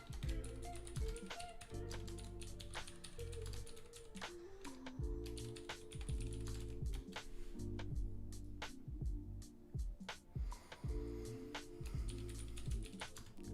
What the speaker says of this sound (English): why am I typing these out?